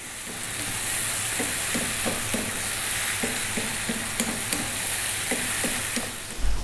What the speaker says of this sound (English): you can see that the mushrooms have reduced down as they cook, and there's moisture in there